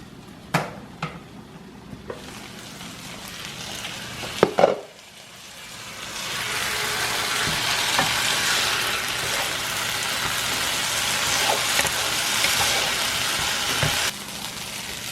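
Food for a Spanish breakfast frying in a lidded pan: a few clinks and knocks up front, then a steady close sizzle and hiss that holds through to the end, no speech.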